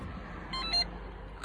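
A Holden Commodore VY/VZ dashboard emits a short, faint electronic beep during a service reset. It is a single brief high tone over a quiet, low background hum.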